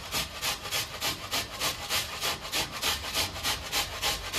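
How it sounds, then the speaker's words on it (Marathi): Potatoes rubbed back and forth on a grater for sabudana vada, giving a steady rhythmic rasping scrape, roughly three strokes a second, close and alone. "बटाटे किसून आपण यात टाकणार आहोत"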